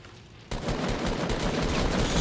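Gunfire in Fortnite erupts after a brief quieter lead-in, a dense, loud burst of rapid shots that keeps building to the end.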